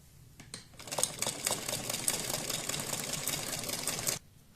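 A sewing machine whirs in one steady run of about three seconds while stitching a puffed blouse sleeve, preceded by a few light clicks and ending abruptly, heard close and quiet.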